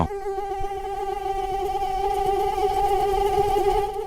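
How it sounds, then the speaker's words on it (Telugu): Mosquitoes buzz close by in a steady, high-pitched whine that holds for about four seconds, with no talking over it. "మామ, దోమలు కుట్టేస్తున్నారే"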